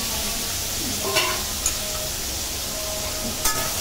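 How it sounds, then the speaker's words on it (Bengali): Prawns fry in oil in a pan with a steady, close sizzle, broken by a few light scrapes and taps of stirring. "এই যে চিংড়ি মাছগুলো এবার আমি এই তেলের উপরেই ভেজে তুলে দেবো"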